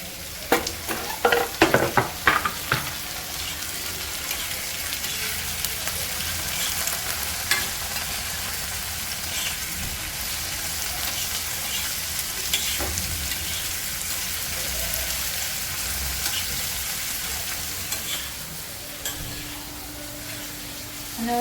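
Chopped onion and tomato frying in oil in a pan, a steady loud sizzle throughout with brisk scraping stirs near the start, no talk.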